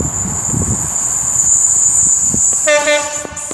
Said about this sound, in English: The longest freight train I've ever seen in my life.